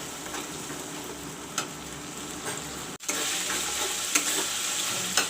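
Masala with chili powder sizzles in a hot pan while cooking stuffed parval, a steady close frying hiss broken by a few stirring clatters and a brief dip midway.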